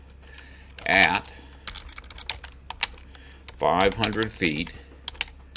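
Computer keyboard typing in quick bursts of clicks, close and moderately loud, with someone talking over parts of it.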